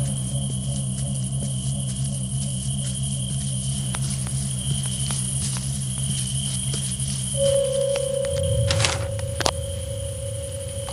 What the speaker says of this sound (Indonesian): seperti ini, suara jangkrik